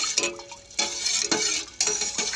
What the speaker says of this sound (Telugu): ఇప్పుడు ఒకసారి మొత్తం కలుపుకుందాం.